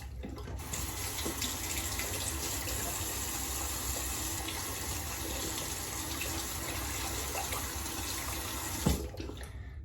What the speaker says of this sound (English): give that a good rinse